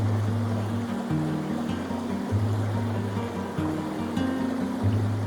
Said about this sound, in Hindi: जब नदी के किनारे बैठते हैं ना, तो जब पानी के बहने की आवाज़ होती है